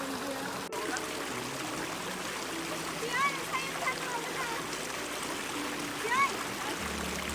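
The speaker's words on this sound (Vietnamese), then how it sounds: "Mình đã đến được dòng suối rồi mọi người ơi." A mountain stream near Da Lat flows with a continuous soft rushing and trickling, fairly quiet and close, with a few brief higher sounds over the water.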